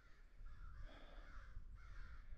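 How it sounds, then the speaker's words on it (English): Repeated harsh cawing from a crow in a Bay of Fundy coastal park, a few drawn-out calls carrying clearly over steady low outdoor rumble. "This crow's got a lot to say."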